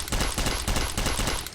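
Automatic gunfire in the Interstellar Marines video game: a loud, close burst of rapid shots in a steady rhythm, with no speech over it.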